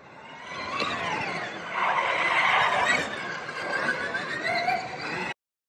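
A professional driver takes a race car through a corner on a track, the engine note rising and holding steady with a tire squeal as the car exits, loud and close throughout.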